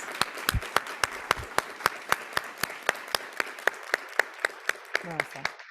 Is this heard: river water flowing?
no